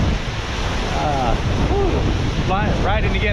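Strong headwind buffets the microphone in a dense, steady roar while riding a Specialized Turbo Vado SL e-bike, with faint squeaky tones rising and falling over the rushing air.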